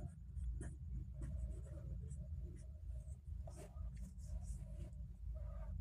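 Integers being written out by hand, a steady scratchy stroke of pen or chalk continuing throughout at close range over a low constant room rumble, with no talking.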